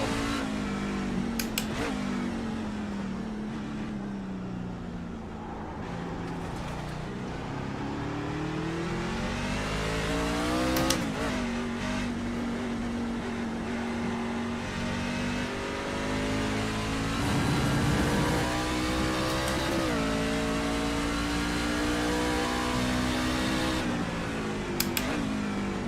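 A racing truck engine in a sim racing game revs hard and continuously, pitch climbing through gears with sharp shifts and drops, loud and close for the whole stretch with no talking.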